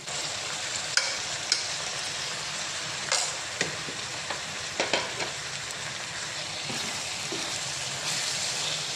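Garlic ginger paste fries with tomatoes in a pan for stuffed karela masala, a steady close sizzle broken by scattered scraping clinks of a spoon stirring.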